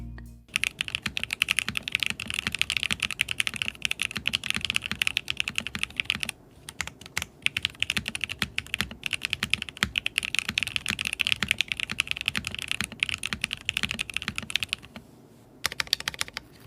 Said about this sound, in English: This feels very pleasant to type on.